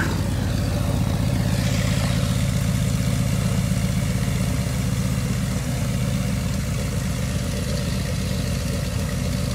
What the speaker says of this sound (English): warming up the engine bring it up to temperature